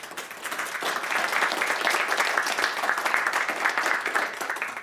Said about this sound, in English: Let's give a round of applause to our fantastic speakers